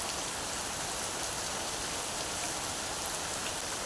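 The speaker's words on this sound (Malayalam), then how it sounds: "നല്ല മഴയാട്ടോ" Heavy rain pours steadily onto a surface, a dense continuous hiss with scattered drop impacts throughout, no voices.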